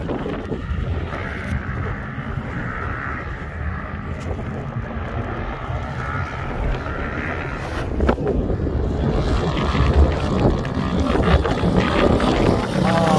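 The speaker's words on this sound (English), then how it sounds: "here comes a YFZ 450 and a Can-Am 450 DS." Yamaha YFZ 450 and Can-Am 450 DS ATVs racing across sand dunes make a constant, windy engine roar that swells louder midway as they approach, with voices talking over it.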